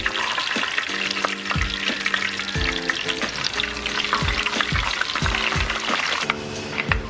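Fenugreek seeds fry in coconut oil in a clay pot, a bright continuous sizzle with crackling pops and intermittent scraping stirs, loud and close.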